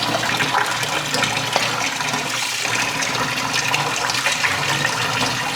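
Running water pours and splashes steadily, close by, as mathi fish (sardines) are rinsed under a flowing tap.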